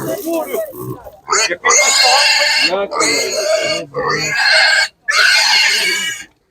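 Piglets at a livestock market grunt and squeal almost continuously, loud and close, with short breaks between the bursts.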